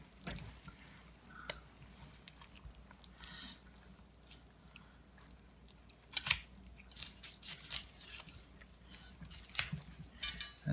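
Scissors or poultry shears snipping and crunching through a honey-brined turkey as it is taken apart, with scattered irregular cuts and a few sharper snaps against a quiet background.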